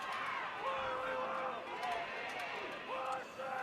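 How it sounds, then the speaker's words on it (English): Crowd noise at a high school football game, Thomas County against Callaway, a steady roar of many voices with scattered shouts and whistle-like tones, heard loud and continuous throughout. "You guys can probably hear the crowd there."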